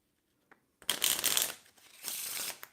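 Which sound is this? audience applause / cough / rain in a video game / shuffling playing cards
shuffling playing cards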